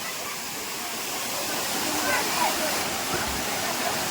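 A waterfall near Panvel, Maharashtra, where crowds come to swim, gives a steady, loud, close roar of falling water, with voices talking underneath.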